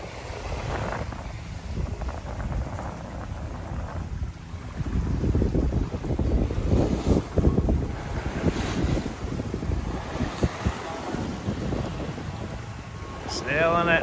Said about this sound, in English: Sailing at night under the moonlight.